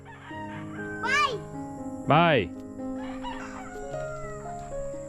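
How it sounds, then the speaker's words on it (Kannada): Roosters crow loudly twice in quick succession amid clucking chickens at a temple site in the Philippines, with people talking nearby throughout. "ಈ ಕೋಳಿಗಳ ಗಲಾಟೆ ಹೆಂಗ್ ತಡ್ಕೋತಾರೆ ಇದು ಕಯ್ಯೋ ಅಂತ ಬಡ್ಕೋತಾವಲ್ಲ ಅವು"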